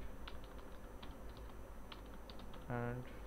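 Fingers tap a computer keyboard in quick, soft bursts of keystrokes, with a brief voice sound near the end.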